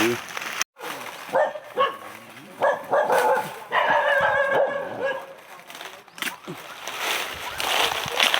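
A dog barks and yips several times at moderate distance outdoors, its calls mixed under a person talking, with a brief splash and steady background noise around them.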